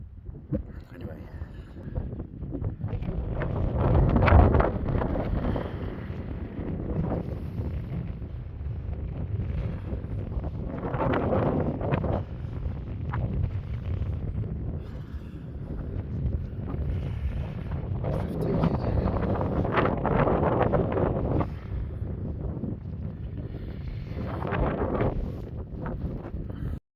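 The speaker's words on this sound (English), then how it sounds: "Wind changed direction last night. As you can see, it's quite blustery." Blustery wind on Dartmoor moorland at a wild camp buffets the microphone in rolling gusts, with a constant low rumble swelling and easing throughout.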